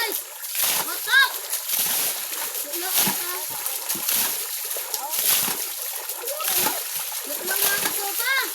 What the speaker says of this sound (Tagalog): Naglilimas kami ng mga sapa.